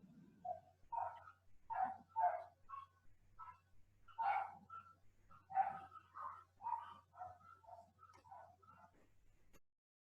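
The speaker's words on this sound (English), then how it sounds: "Somebody has a nice dog in the back row." A dog barks repeatedly in short, fairly even yaps and woofs from somewhere in a classroom, distinct and moderately loud over a faint low hum, with no talk in between.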